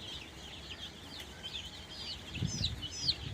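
Soft clucks and chirpy calls of chicks rise over a quiet farmyard background during Ranikhet disease vaccination, with a slightly louder burst of clucking near the end.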